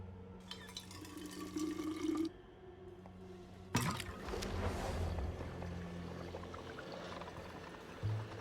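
Water is filtered in the video game We Happy Few, with a soft trickling pour and gurgle, a brief splashy surge midway, and liquid sloshing that continues to the end.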